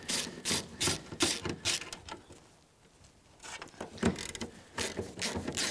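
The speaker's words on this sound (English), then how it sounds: "Now we can undo all the bolts." Ratchet wrench undoing 8mm M5 bolts on a car's front bumper, a string of quick, close clicking bursts in a steady rhythm with a brief pause midway, no talking.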